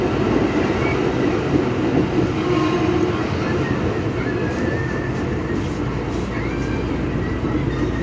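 A KRL commuter train pulling into Duren Kalibata station, a loud steady rumble and rattle of rolling carriages heard from inside, with faint squeals and brief station noise mixed in.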